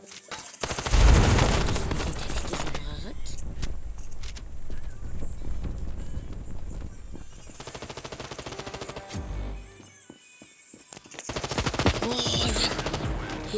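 Rapid gunfire in a shooter video game, dense bursts of automatic shots rattling in quick succession, loudest early on, thinning to a brief lull and then resuming in another clustered burst.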